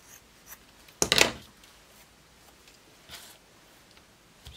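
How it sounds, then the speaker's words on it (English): Scissors cut a strip from a book page for a handmade tag: one brief, crisp snip-and-rustle burst, close, with faint paper handling before and after and no talk. "I'll just cut a strip from this and do something with it."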